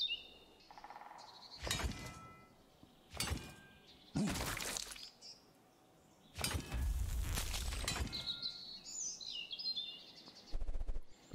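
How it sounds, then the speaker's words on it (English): Bird chirps and calls in a tranquil game scene, scattered high tweets between several sharp noisy bursts of crackling and breaking, moderately close with no talk. "Just bird sounds"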